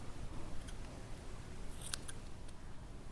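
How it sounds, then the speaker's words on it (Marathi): Scissors snip thread while a single mogra flower gajra is being made, with a few quick, crisp cuts against a quiet, hissy background. "ज्या धाग्याने आपण गाठ मारलेली आहे तो धागा आपल्याला थोडासा मोठा कापून घ्यायचा आहे"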